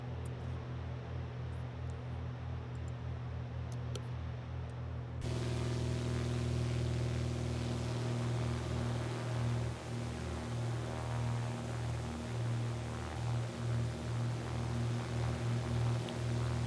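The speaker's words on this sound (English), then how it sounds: "let me turn down the engine noises" Steady engine drone of a Carbon Cub EX light aircraft in flight over Idaho, a constant close hum and rumble that grows suddenly louder partway through and holds with no talking.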